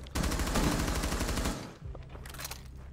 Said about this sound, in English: Someone just shot me.